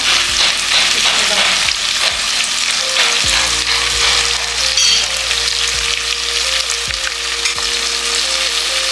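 Boiled biryani rice goes into a hot pot with a loud, steady frying sizzle, with clattering scoops and scrapes of a utensil repeating every second or so throughout, with no talking.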